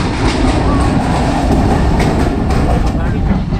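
Steady loud rumble and rattling clatter of the Thall Express passenger train running on rails near Jalar station in Pakistan, heard from inside with continuous wheel noise throughout.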